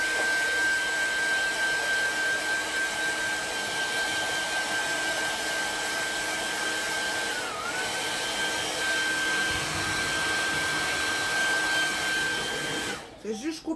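Hair dryer blowing steadily to dry paint on a 3D art piece, a loud continuous whine with a constant pitched tone that dips briefly midway, then cuts off near the end.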